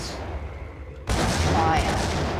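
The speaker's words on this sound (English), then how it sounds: "They're just firing." Enemy gunfire in Max Payne: a muffled stretch gives way abruptly to loud, rapid bursts of shots that keep rattling on densely to the end.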